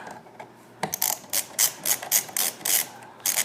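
A Torx wrench ratchets bolts out of a Prusa Mini 3D printer, giving a close, rapid series of sharp mechanical clicking bursts in an uneven rhythm, with no voice.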